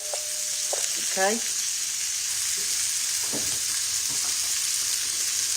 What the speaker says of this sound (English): let's turn our livers over and see how they look on the other side